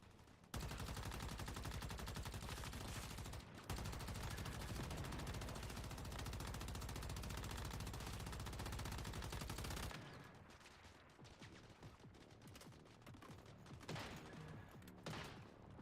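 Sustained automatic gunfire in the video game Once Human, a dense loud barrage running steadily for about ten seconds after a brief pause, then dropping to scattered quieter shots and game effects.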